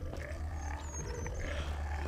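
Zombies growl in the video game The Walking Zombie 2, a low rumbling snarl that is faint and continuous over a short stretch, with no talk.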